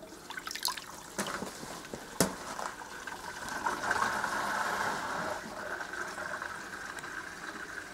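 Water swirling and draining in a vortex experiment, a steady gurgling, bubbling flow with a few sharp knocks early on, fairly close and alone.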